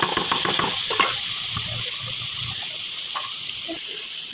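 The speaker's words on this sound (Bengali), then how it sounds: "এবার আমি লাউটাকে দিয়ে দিচ্ছি এর মধ্যে।" Bottle gourd frying in a pan, with a steady high hiss of sizzling oil and a few soft stirring clicks near the start, close and fairly loud, no voices.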